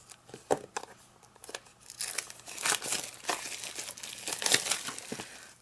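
Shrink plastic wrap being crinkled and torn off Stampin' Up! ink pads at a craft table, close irregular crackles and rustles building in intensity, no talk.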